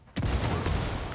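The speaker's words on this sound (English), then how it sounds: "Taking fire." Gunfire in the video game Ghost Recon Wildlands bursts in suddenly as a loud, dense volley of shots with rumbling echo, sustained throughout without talk.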